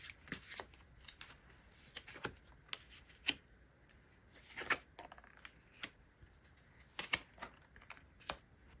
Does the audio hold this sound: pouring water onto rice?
no